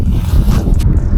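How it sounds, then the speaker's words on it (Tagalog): Strong wind on the Mt. Pulag Ambangeg trail at night buffets the microphone in loud, continuous low rumbles, with brief rustling noises near the end. "malakas yung hangin"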